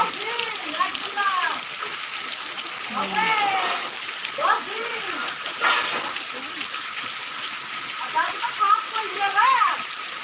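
Steady, heavy rain hisses throughout, with people talking over the downpour.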